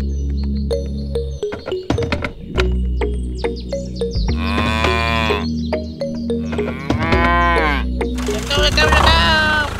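A cartoon cow moos in a long, drawn-out low call, repeated a few times among game-like sound effects and music, loud and close.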